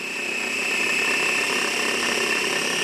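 A blender whirs steadily, mixing clams and breadcrumbs for BBQ clams casino, a continuous loud motor drone with a high whine that holds without pause.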